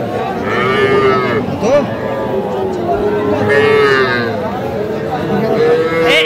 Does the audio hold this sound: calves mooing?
yes